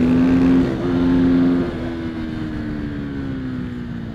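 Husqvarna FE 450 and KTM 690 SMC-R supermoto motorcycles racing, a close, loud engine drone with a steady tone that shifts and slowly drops in pitch as it pulls away.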